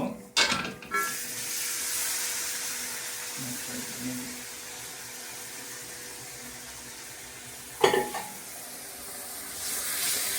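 Beef frying in a hot pan for a beef curry in a home kitchen, a steady close sizzle with stirring scrapes and a couple of sharp utensil clatters.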